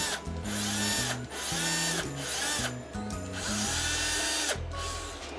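Bosch GSR 10.8 lithium-ion cordless drill running after repair, a series of close whirring bursts with pitch changes and ratcheting clicks between short pauses.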